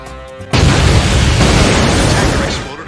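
A loud explosion on a city freeway in an animated film bursts in suddenly after a short tonal lead-in, then holds as a dense, roaring blast that slowly fades out.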